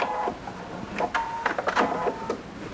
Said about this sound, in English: Back stitch, secure everything up, cut your threads